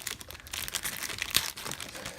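Crinkly plastic envelope packaging of a Fitbit Charge 3 being pulled open close up, a short burst of crumpling and tearing rustle with no talk.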